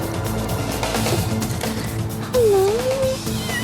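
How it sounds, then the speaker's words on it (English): A little black kitten sealed inside a taped cardboard box lets out a single rising, wavering meow, loud and close, over steady low background noise. "there's a little black kitten in there."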